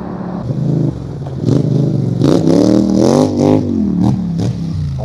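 A 90 hp, 400 kg quad bike engine revs up close and loud, its pitch rising and falling through several throttle blips over a steady rumbling idle.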